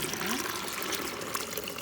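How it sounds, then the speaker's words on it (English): Hot tea pours onto sugar in a vessel for kombucha: a steady, close liquid stream that fills the short moment without pause. "I'm gonna pour the hot tea onto the sugar"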